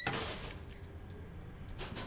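A door closing inside the horror video game Layers of Fear, a single soft thud at the start followed by low, dim ambient rumble, with no talking.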